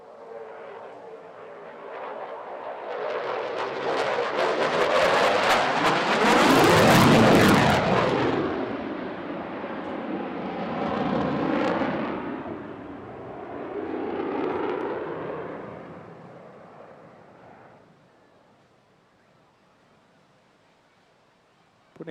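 A display aircraft at the Bournemouth Air Festival sweeps past, its engine roar swelling to a loud peak then fading as it climbs away and dies into the distance.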